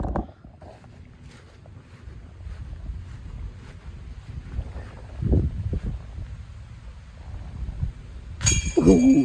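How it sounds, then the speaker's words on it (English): Gusty wind buffets the microphone outdoors on a backyard disc golf course, rising and falling in low rumbling bursts that grow stronger toward the end. "Ooh, that wind."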